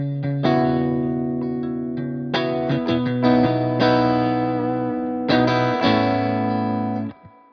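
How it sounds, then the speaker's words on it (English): An electric guitar through a light overdrive plays several strummed chords and picked notes, each ringing out with gentle grit and sustain before the next, loud and close with no talking. "This is definitely a light overdrive sound."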